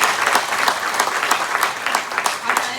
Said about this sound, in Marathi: हा टाळ्यांचा गजर पटवर्धन सर तुमच्यासाठी, महाले सर तुमच्यासाठी